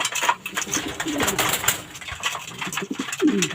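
Racing pigeons coo in soft, repeated throaty calls close by, with other bird calls and faint rustling around them and no talk.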